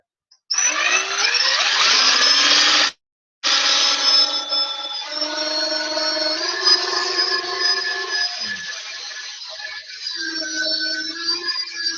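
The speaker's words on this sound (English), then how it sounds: "So we're going to drill a hole" A power drill whines at high speed, its pitch shifting as it bites into material, briefly stopping then resuming for a long steady run.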